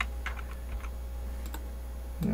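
A few light clicks of computer keyboard key presses, close and soft over a steady low hum.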